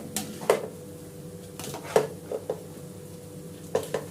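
Vegetable egg noodles are tossed and mixed in a pan, with a utensil knocking the metal several times in an irregular rhythm over a faint sizzle.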